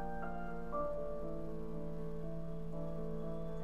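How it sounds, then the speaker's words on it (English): Steady rain falls in the video game Heavy Rain, a dense continuous wash over a sustained tonal music bed, fairly quiet and unbroken for several seconds with no talking. "So a child died, and therefore it rains forever."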